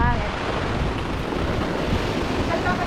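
Strong typhoon wind roars steadily against the microphone, a loud, dense buffeting rush with no pause.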